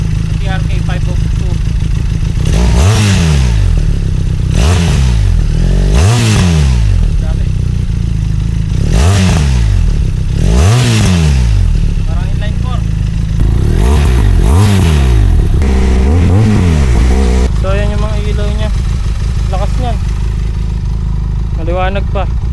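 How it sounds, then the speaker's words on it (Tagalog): A 2024 Benelli TRK 502X motorcycle with an SC Project dual exit exhaust revving hard, a series of about eight sharp throttle blips rising and falling over a loud idle, close to the microphone. "Sound check natin, SC Project Dual Exit TRK 502"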